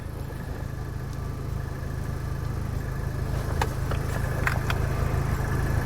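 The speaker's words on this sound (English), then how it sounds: "So let's let it idle a little bit and see." A Saturn Sky car with an intermittent overheating fault idles steadily and close by, a low even engine hum with a few faint clicks near the end.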